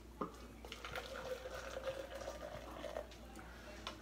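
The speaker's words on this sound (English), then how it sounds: "I'm gonna pour some hot water in it" Hot water is poured into a borax solution, giving a faint, continuous trickling splash with small drips.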